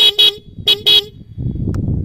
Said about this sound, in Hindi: इसके अंदर आगे हॉर्न भी लगाए हुए हैं।